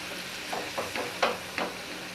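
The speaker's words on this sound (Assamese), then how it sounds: "কিন্তু মছলাখিনি ধুনীয়াকৈ ভাজি ল'ব লাগিব" Spice paste with turmeric fries in a pan for steamed hilsa fish, giving a soft steady sizzle broken by a few short bursts as it is stirred, close and fairly quiet.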